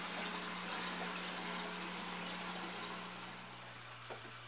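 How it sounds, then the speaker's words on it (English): Fresh water is siphoned from a holding tank to refill an aquaponic fish tank, giving a continuous soft rushing trickle over a low steady hum that eases slightly toward the end. "And I just siphon in fresh water from the tank"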